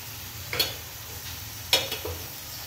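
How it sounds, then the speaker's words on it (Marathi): Ground spices such as coriander powder and turmeric being stir-fried in a pan for whole masoor dal, with two distinct scraping strokes of a spoon over a soft, steady sizzle. "आणि मसाले पण आपल्याला चांगल्या प्रकारे परतून घ्यायचे।"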